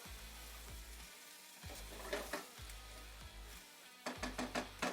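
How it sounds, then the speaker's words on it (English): Pheasant meat sautés in butter with shallot and garlic in a pan, a soft continuous sizzle broken by several bursts of stirring and scraping, with a low rhythmic mechanical hum running underneath. "Give us a chance to kind of saute the meat a bit before we start introducing a liquid"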